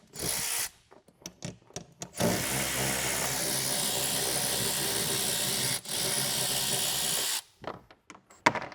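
A power tool removes bolts from the front trunk of a Tesla Model 3 Highland, whirring steadily for about five seconds with a brief dip, framed by clattering handling knocks before and after.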